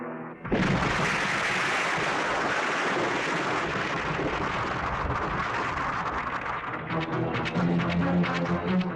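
A sudden loud explosion erupts into a long roaring rumble that continues for several seconds, with crackling debris-like noise toward the end.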